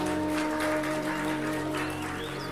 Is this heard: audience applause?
yes